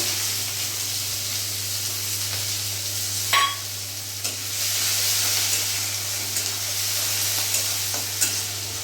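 Chopped onions sizzle steadily in hot oil, a constant close hiss broken by a few clinks of stirring over a low hum.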